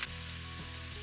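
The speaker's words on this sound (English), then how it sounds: "Now into the oil, add the aromatics, onions," Onions hit hot oil in a pan for quick braised pork spare ribs, starting with a sharp burst, then settling into a steady, soft crackling sizzle with no one talking.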